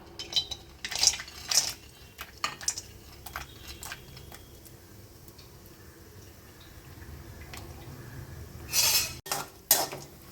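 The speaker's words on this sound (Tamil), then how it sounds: "நெய் நல்லா காஞ்சதுக்கப்புறம் நம்ம முந்திரி பருப்பை போட்டுடலாம்" Cashew nuts dropped into hot ghee in a kadai, giving scattered clinks and crackles with a soft sizzle under them and a louder burst of clatter near the end.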